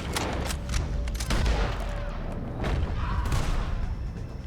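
Gunfire in Red Dead Redemption 2 during a shootout, scattered sharp shots and distant pops crackling over a busy rumbling background, some near, some far, with occasional voices.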